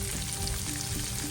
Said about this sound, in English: And I'm going to give it a little stir fry.